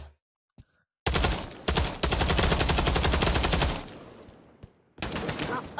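Gunfire in the VR shooter Pavlov, with a few isolated clicks, then loud sustained bursts of rapid automatic fire that stop briefly and start again, close and dominant, with no talk.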